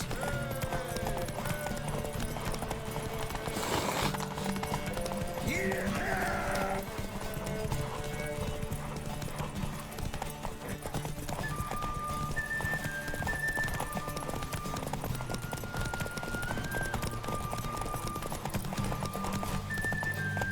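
Clip-clop hooves of a galloping horse in the video game Witcher 3, a fast steady rhythm throughout with a brief whinny, layered over game music and faint voices.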